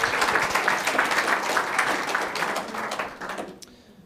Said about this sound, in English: So just one more big round of applause for them.